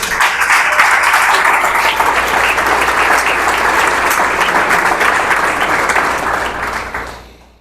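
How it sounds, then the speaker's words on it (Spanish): Sustained congregation applause fills a church service, steady and loud for about seven seconds before fading out at the end. "Un aplauso, Él se lo merece"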